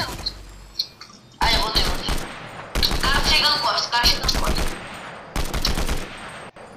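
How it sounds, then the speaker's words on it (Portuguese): Rapid bursts of automatic gunfire from a Fortnite match come in several loud volleys separated by short pauses, with players talking briefly between the shots. "Tá atirando ele."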